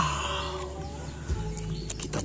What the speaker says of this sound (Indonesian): Lihat teman-teman, di sini ada ayam.